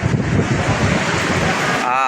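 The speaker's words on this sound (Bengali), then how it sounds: "বাতাস," Wind blows hard beside a railway line during a train journey, a loud steady roar of buffeting against the microphone with a faint voice briefly underneath.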